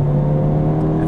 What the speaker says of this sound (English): Here we go, second gear pull.